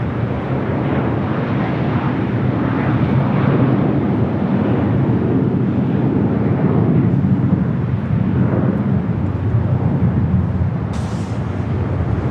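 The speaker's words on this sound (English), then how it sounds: "Zippy 787-8 Dreamliner. Zipping on back to Tokyo Narita." Boeing 787-8 Dreamliner jet airliner departing LAX, a loud continuous engine roar with broad rumbling noise holding steady throughout.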